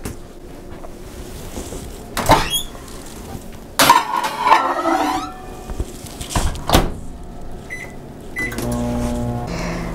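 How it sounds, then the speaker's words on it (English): Microwave oven in a home kitchen, melting chocolate and peanut butter pie filling: a door thud and clatter of dishes, then beeps and a steady running hum from the oven toward the end, all close by and with no voices. "let's put this in the microwave"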